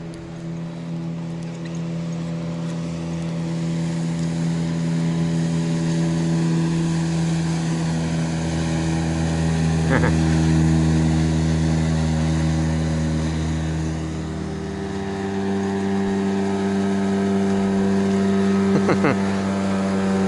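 A motorboat engine drones steadily at moderate distance, its pitch shifting slightly as boats pass, with brief faint knocks midway and near the end.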